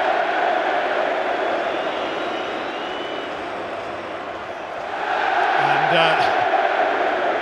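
Newcastle United supporters cheering in the stadium at the Carabao Cup Final against Liverpool, a broad distant crowd roar that swells toward the end, with a commentator talking over it.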